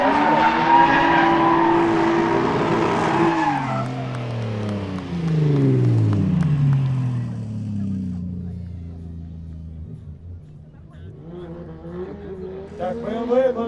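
A BMW E30 drift car at a drift competition, its engine roaring loud and close with a falling rev sweep and tyre squeal, then fading before another car revs in the distance, with a commentator talking over it.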